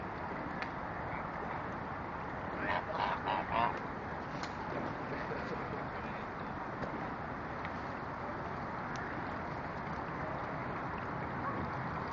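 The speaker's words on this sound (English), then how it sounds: "These are our buddies, the geese." Several geese honk in a short burst partway through, over a constant rushing background noise, at the Head of the Charles regatta; the calls are moderately distant.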